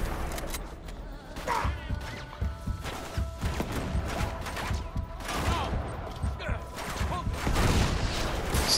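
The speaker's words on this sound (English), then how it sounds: "Who's shooting me?" Video-game gunfire crackles in irregular bursts and bangs amid busy action noise, moderately loud and steady throughout, with no voices.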